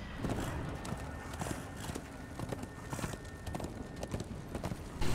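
Steady rapid hoofbeats of a galloping horse in the video game Darksiders II over a constant rumbling background, with a brief whinny-like sound, continuous throughout.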